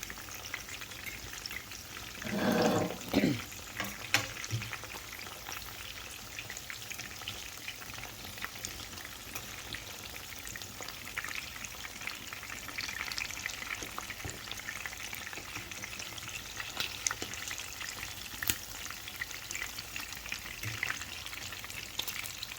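Chapila fish frying in hot oil, a soft steady sizzle and crackle with a brief louder burst of spattering early on, fairly quiet and close.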